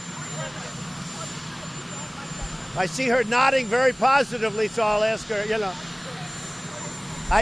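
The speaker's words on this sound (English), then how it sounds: "you have a helicopter that's raging back there" A helicopter idles nearby during an outdoor White House press briefing, a steady low roar that stays under a man's speech throughout.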